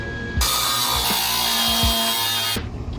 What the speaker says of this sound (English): I can undo it real quick and grind the whole outside